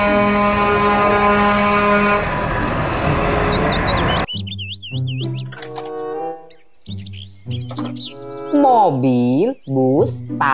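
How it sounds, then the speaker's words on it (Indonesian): A toy box truck plays a loud electronic sound: a sustained buzzy horn-like tone for about four seconds, then rapid chirping beeps and sliding playful tones, close and clear. "Mobil truk box."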